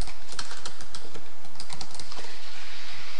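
Rapid keystrokes on a computer keyboard as a search word is typed, a close, steady run of crisp clicks with no talking.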